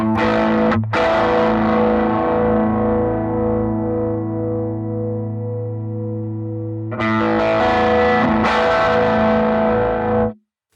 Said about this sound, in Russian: но я, как обычно, выбираю тюб-скример